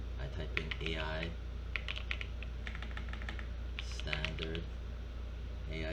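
Rapid clicks of fingers typing on a computer keyboard while setting up a shader, in short uneven bursts with pauses, close and fairly quiet over a steady low hum.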